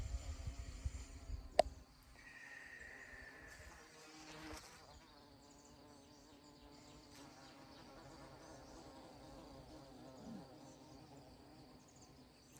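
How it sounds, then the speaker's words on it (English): Faint, steady bee buzzing hums in the background of a quiet outdoor setting, with a sharp tap near the start. "There's these bees that are just buzzing away."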